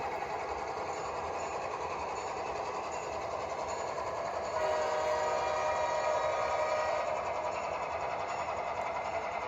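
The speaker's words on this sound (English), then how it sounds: "I need to shove track 2 with 3 rock hoppers." A locomotive shoves three rock hopper cars uphill on a rail line, a steady loud mechanical drone and rumble running throughout, swelling slightly louder about halfway through, with no voices.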